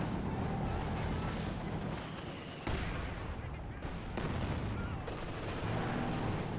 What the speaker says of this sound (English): Katyusha now firing into the MG probably.